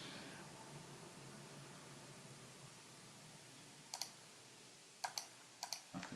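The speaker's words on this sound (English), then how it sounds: "I'm clicking things and it's not working for me for some reason." Several sharp, quiet computer mouse clicks sound over a steady background hiss, first a single one, then a quick cluster near the end, with no voices.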